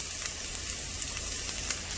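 Onions fry with a pinch of salt in a pan for a brown rice vegetable pulao, giving a soft, even sizzle with faint scattered crackles, close and steady.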